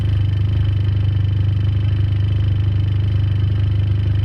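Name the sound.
Ford Probe GT engine with T04b turbo idling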